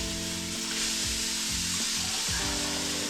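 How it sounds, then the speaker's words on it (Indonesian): Chicken wings frying in a pan as water is added, a steady close sizzle with occasional scraping and clacking of a utensil in the pan. "Ini kita goreng, baru kita masukin air."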